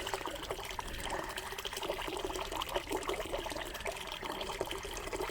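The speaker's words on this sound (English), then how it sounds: "I feel a little guilty though taking a bath, using so much water." Water pours steadily from a tap into a bathtub in a Moroccan tent villa hotel room, a continuous close splashing rush that fills the whole stretch without any voices.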